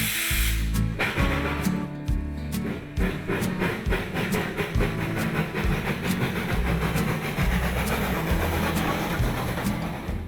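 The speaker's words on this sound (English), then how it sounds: "Father and son team John and Barney Gramling bring their flagcoal steam engine, Hank, to Thomaston every year to give our visitors a special ride" Small coal-fired 0-4-0 steam tank engine giving visitor rides, heard with steady chuffing and clanking rhythm, hissing steam and rolling wheel clatter, fairly close and continuous without speech.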